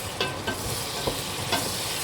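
Chopped tomatoes and chili hit a hot pan for a prawn curry, giving a constant crackling sizzle with a few sharp spoon scrapes and knocks as they are stirred.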